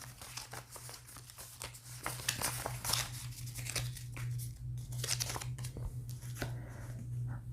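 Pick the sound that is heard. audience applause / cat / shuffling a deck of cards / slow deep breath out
shuffling a deck of cards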